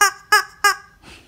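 A squeaky goose-shaped dog toy gives three loud, evenly spaced honking squeaks close up, followed by a softer air-release wheeze.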